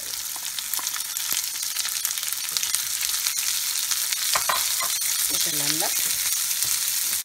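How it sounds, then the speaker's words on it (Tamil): Onions fry in hot oil with lentils, chana dal and urad dal, while palak and egg poriyal is cooked in a Tamil kitchen. A steady close sizzle carries on throughout, broken by occasional stirring scrapes and clinks, with no one speaking. "தூவி விட்டுட்டு வறுத்தா சீக்கிரமாக வெங்காயம் வறுப்பட்டுரும்."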